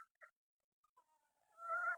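Chickens being fed in the morning cluck in short bursts, then break into a louder, busier burst of clucking near the end, close by.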